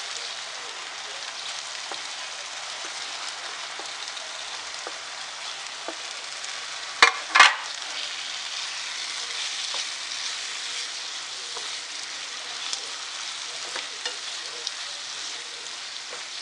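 Goat brain fries in hot oil in a pan for bheja biryani, a steady close sizzle throughout with a couple of sharp louder crackles partway through and no talking.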